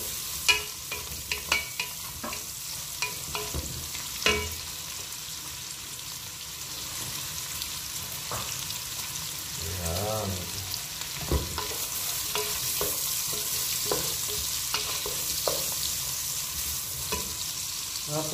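Pork belly (pancetta, liempo) frying in a pan, a loud steady sizzle close by, with scattered clinks and scrapes of stirring and a brief voiced sound in the middle.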